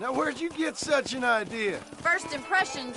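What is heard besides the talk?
No everyday noise stands out behind the speech.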